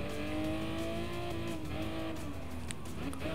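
Race car engine in Gran Turismo Sport on Goodwood Motor Circuit, a continuous droning whine rising and falling as the car shifts and accelerates, with other cars audible in the mix.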